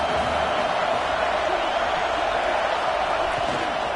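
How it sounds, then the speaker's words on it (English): Football stadium crowd noise, a dense continuous roar from a large crowd heard throughout, loud and steady with a commentator's voice blended in. "This crowd bringing the energy and noise early."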